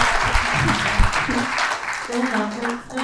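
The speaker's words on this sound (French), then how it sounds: "je vais vous demander d'applaudir Donaville pour la remercier" Audience applause at a testimonial gathering, dense steady clapping heard with voices and speech mixed in over it throughout.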